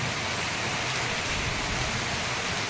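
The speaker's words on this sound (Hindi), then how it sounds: "उसके बाद बारिश स्टार्ट हुई है" Heavy rain pours down steadily, a dense, loud, continuous hiss of drops with no voices over it.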